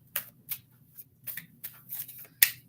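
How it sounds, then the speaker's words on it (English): A deck of tarot cards being shuffled by hand: six or seven quick, crisp riffling bursts at a steady pace, close and fairly quiet, ending on a sharper snap. "I'll shuffle it a few more times."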